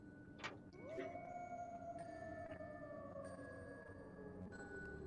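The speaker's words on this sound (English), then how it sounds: "howling." Howling effect in a tabletop fantasy game session: a long wavering tone that glides slowly downward over several seconds, with faint chimes and other eerie tones layered quietly underneath.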